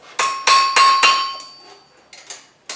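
Ringing hammer blows on steel over an anvil while forging a double hook: four sharp metallic strikes in quick succession, then a pause and a few lighter taps, close and loud.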